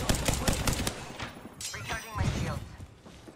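Rapid heavy gunfire from the Mastiff shotgun in Apex Legends, with several sharp blasts close together at the start and more booming shots later amid game effects, while a player talks over it.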